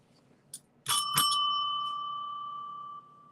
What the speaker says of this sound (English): Spirit rang the bell for me. They said I have a donation.